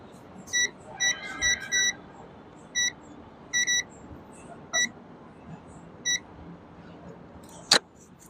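A series of short, high electronic beeps from a tester checking a grounded hub motor, some in quick pairs or triplets, spaced irregularly over a quiet background.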